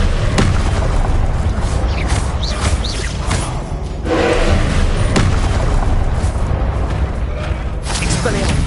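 Confringo blasting spell explosions in Hogwarts Legacy, a dense battle of repeated booming bursts and thuds over a continuous loud rumble, with game voices mixed in.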